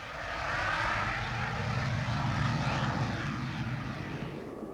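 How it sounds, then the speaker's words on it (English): A zero-gravity aircraft diving near vertically gives a loud, broad engine roar and rushing noise that swells in and holds steadily for several seconds, slowly fading at the end, with no talk over it. "Zero gravity can only be simulated when the plane is diving near vertically"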